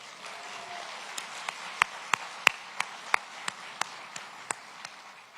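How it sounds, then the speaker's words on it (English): Sparse applause from a few people at a police-community relations awards ceremony, about a dozen separate claps spaced out over several seconds, faint and a little distant in a quiet room. "Can we have a round of applause for all the people in law enforcement in here?"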